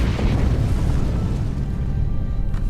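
An enemy ship blows apart under torpedo fire in the Star Trek Online video game, a loud, close, rolling explosion that rumbles for a few seconds before easing off.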